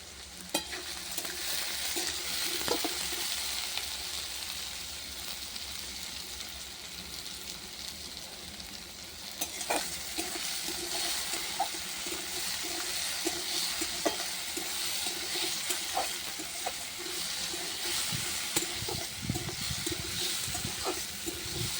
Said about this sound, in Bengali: আলুটার পেঁয়াজটা ঢাকা দিয়ে ভেজে নেব।